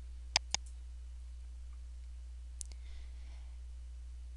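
Two quick, close mouse clicks on a quiet computer, then a third fainter click a couple of seconds later, with near silence between them.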